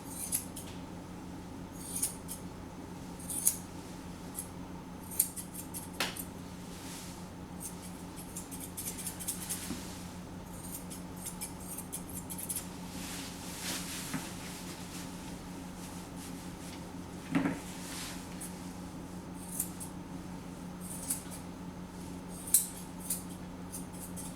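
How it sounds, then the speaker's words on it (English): Scissors snip fur around the foot of a poodle retriever during a kennel clip, small quiet cuts scattered irregularly over a steady low background hum. "comb it all down around the foot, and trim it all off"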